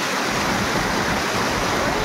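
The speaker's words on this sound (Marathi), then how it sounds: "खूप आवाज येतोय पाण्याचा" Loud water flows and rushes along a stream crossing on the trail to Visapur Fort, a dense, continuous hiss and roar filling the whole stretch with no voices.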